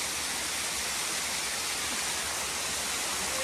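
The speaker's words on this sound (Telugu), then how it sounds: "ఎట్లా ఉంది మన వాటర్ ఫాల్?" Mahboob Ghats waterfall in the Nirmal area pours down in a steady, dense roar of rushing water, broad and unbroken from start to finish, with no voices over it.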